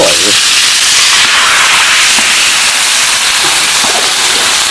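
Water poured into a hot pot of big bones seasoned with salt, ginger slices, dark soy sauce and ginger powder sets off a loud, continuous hiss of sizzling steam that holds without a break.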